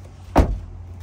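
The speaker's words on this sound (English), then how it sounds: "doors to unlock when you hit that handle that you saw me pull right now" The door handle of a 2020 Honda Accord Sport 2.0 in Platinum White Pearl is pulled, giving one quick, close, muffled clunk as the locks release, followed by quiet.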